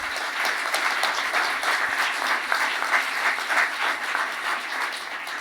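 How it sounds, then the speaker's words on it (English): Warm, steady round of audience applause at an indoor gathering, a dense even wash of many hands clapping at moderate volume with no voices on top. "Please, a quick round of applause for Ben."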